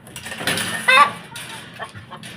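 A hen lets out a short burst of loud, sharp clucks and cackles after laying an egg, close by, with faint speech around it.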